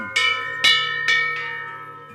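A bell made from a bomb casing is struck four times at an unhurried pace, each bright metallic clang ringing on and fading.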